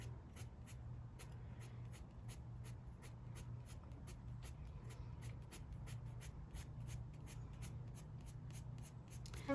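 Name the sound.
graphite pencil cross hatching strokes on paper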